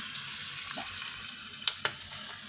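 Hot oil sizzling steadily as tempering spices fry for baingan bharta, with a couple of sharp spitting pops late on, moderately loud and close, no voices.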